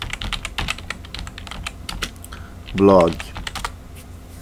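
Computer keyboard typing into a search box, with rapid key clicks scattered across the clip and a short spoken word in the middle.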